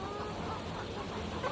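Chickens clucking on a village chicken farm, a dense continuous chorus of many birds filling the space, steady and fairly loud without pauses or talk over it.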